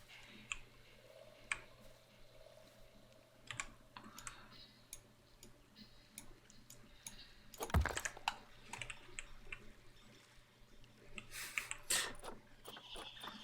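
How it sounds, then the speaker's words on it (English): Computer keyboard typing in the background: scattered soft clicks and bursts of keystrokes, faint and uneven, with a couple of louder clacks partway through and no voices. "people can hear you on the keyboard in the background there"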